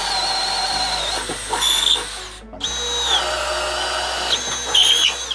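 A Milwaukee 12-volt hammer drill bores through wood with a 5/8 inch speed bore bit, a whining motor rising and dipping under load, pausing briefly midway, then resuming with chattering bite.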